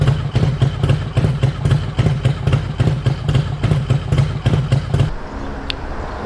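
A Honda VTX1800 motorcycle engine idles close by with a steady, deep, loping pulse for about five seconds, then cuts off to near quiet.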